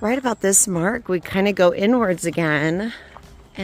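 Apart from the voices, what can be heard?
None of the usual background noises is heard.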